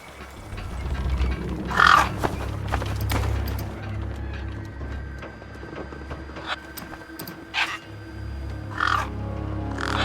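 Scavenger gang birds caw in the wasteland of the video game Beyond a Steel Sky, with several sharp caws spaced out over a low, steady hum and faint mechanical noises.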